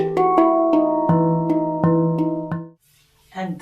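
A handpan built with its bass facing the player, struck about seven times in a steady rhythm, bright ringing metallic tones with sustained overtones, close and loud, followed by a brief pause and a softer final note.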